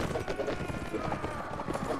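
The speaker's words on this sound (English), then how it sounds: "that's a lot of fucking horses" Massed horses galloping in the video game Mount & Blade: Warband, a dense steady clatter of hooves running throughout over game noise, with faint voices mixed in.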